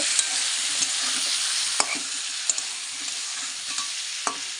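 Spices with cumin, ginger and chili paste being sautéed in a pan for a rohu fish curry give a close, steady sizzle punctuated by occasional sharp scrapes of a spatula, with no voices.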